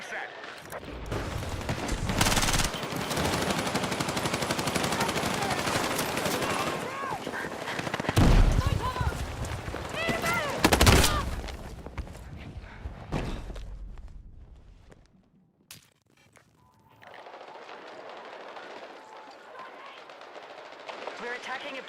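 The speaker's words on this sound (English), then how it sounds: "The M60 sounds good in this game. It does have a good, nice sound to it." An M60 machine gun firing in a first-person shooter, loud sustained bursts with footsteps and game noise, a voice talking over parts, fading to a quiet stretch before ambient noise returns.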